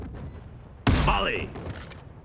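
Gunfire in the Valorant video game: one sharp, loud shot breaks out of a quiet stretch and rings off, with game sounds and a faint voice behind it.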